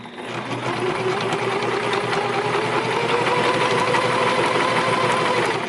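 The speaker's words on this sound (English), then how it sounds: "This is again a high stress point, so we're going to do some back stitching." A sewing machine back-stitches fabric while a wheelchair is being recovered, giving a steady, close, unbroken mechanical whir that runs the whole time with no talking.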